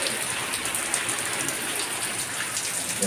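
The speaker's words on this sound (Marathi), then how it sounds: "जस्ट आत्ताच आला आहे पाऊस, बघू शकताय." Steady rain falling outdoors near a clinic in the early evening, a dense close hiss of drops on surfaces that continues evenly throughout with no voices.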